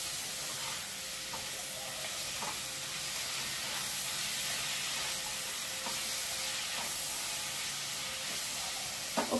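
Onions and tomatoes sizzle in a pan on the stove, a steady, bright hiss with occasional small pops and crackles, close and unbroken throughout.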